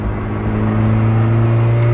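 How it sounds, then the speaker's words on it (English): Lotus Elise S1 sports car with a factory-option Janspeed exhaust, its engine droning steadily at close range under acceleration; a continuous low, harmonic-rich tone holds throughout with no distinct exhaust pops standing out. "I've got that pop from the Jan Speed exhaust, which is an option fitted to this car from the factory"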